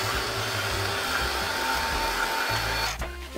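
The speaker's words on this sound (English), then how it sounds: "I just want to give these two a little bit of a blast with the heat tool." Crafting heat tool blowing a steady, loud whir onto a stenciled Christmas card for about three seconds, then cutting off briefly and restarting near the end.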